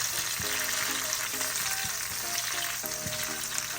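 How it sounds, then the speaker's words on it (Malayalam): Sliced onion and slit green chillies sauté in a pan for a Kerala-style tomato curry, giving a dense continuous sizzle punctuated by repeated scraping strokes of a spoon. "സവാള ഒന്ന് വഴന്ന് വന്നിട്ടുണ്ട്"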